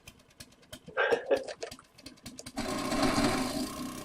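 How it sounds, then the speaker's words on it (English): A rapid mechanical whirring auger drill in the video game 7 Days To Die, starting in short bursts and then running continuously and louder near the end. "Somehow your auger is louder than mine."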